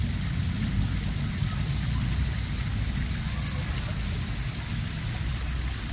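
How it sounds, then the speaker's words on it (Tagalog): Water gushes and flows without a break at an outdoor park, a constant broad rushing wash heard close and loud from start to finish. "Kinig na kinig mo yung lagaslas ng tubig."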